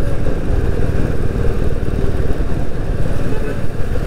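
A Royal Enfield Meteor 350 motorcycle on a night ride, its engine a steady, loud low rumble with road and wind noise throughout, with no clear gear changes or revs.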